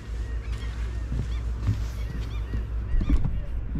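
Domestic ducks honk and quack in a cluster outdoors, a few calls rising over steady background noise with faint voices nearby.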